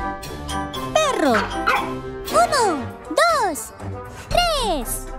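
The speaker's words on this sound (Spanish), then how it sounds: "Perro." A cartoon dog voice gives a series of short, bouncy barks, about four sweeping yelps spaced across a few seconds over a soft background, in a children's song.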